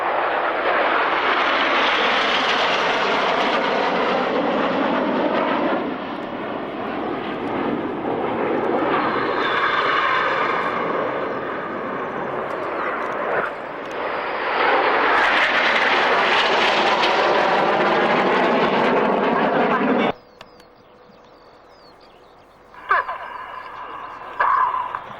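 Aerobatic display planes at the 2001 Mildenhall airshow sweep past in a 5-4 cross manoeuvre, engine roar swelling and fading as they cross, then dropping off abruptly to a quiet hum.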